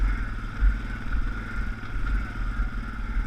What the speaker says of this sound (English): Just allowing the bike to crawl over it gently.